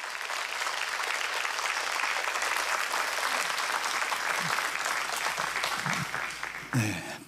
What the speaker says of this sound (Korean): 선교사님 나오실 때 큰 박수로 환영해 주시기 바랍니다.